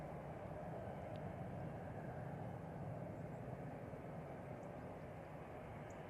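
A Ryanair Airbus A319 lands at Manchester Airport, heard as a continuous, even rumble and hiss of engine noise at moderate distance with no voices.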